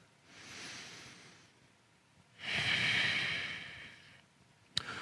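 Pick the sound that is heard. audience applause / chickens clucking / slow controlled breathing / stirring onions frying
slow controlled breathing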